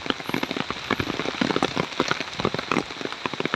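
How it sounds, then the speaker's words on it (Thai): Heavy rain pours down in a dense, continuous patter on a surface during a windy storm, loud and close, with dense drop impacts throughout and no speech. "ซึ่งฝนก็ไม่มีทีท่าว่าจะหยุดเลย"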